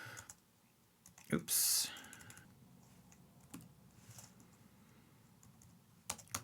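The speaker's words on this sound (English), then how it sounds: "we're just going to type in the script here" Quiet typing on a computer keyboard, scattered soft key clicks and a few sharper taps, with a brief burst of noise and a short spoken remark among them.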